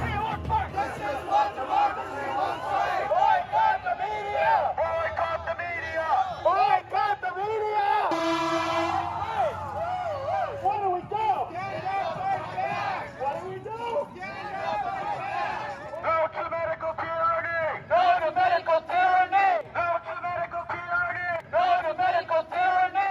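Outdoor protest rally in Westwood, Los Angeles, with a modest crowd of mixed voices chattering continuously and fairly loudly for the whole span, talk rising and overlapping without pause.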